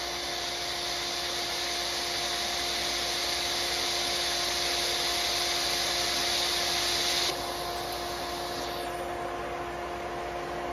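A TIG welder makes a spot or plug weld on metal, with its cup resting on the parent metal, giving a steady, close buzzing hiss for several seconds that drops off abruptly near the end.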